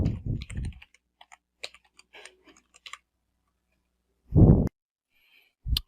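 Typing a password on a computer keyboard: a short burst of quick, close keystrokes at the start, then sparse scattered clicks and two louder isolated key presses later, with quiet between them.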